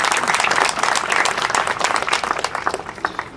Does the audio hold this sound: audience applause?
yes